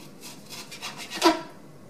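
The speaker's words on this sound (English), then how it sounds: "just start slicing and go all the way across the steak" A knife draws through steak in a few soft, rasping strokes on a cutting board, cutting thin slices, with one slightly louder scrape near the end, quiet and close.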